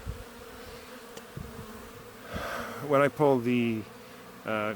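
Honey bees buzz around an open beehive during beekeeping work, a faint hum rising into several close, loud buzzing passes near the end.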